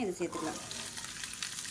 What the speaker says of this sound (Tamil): அதை நல்லா எண்ணெயில் வதக்கிக்கலாம்.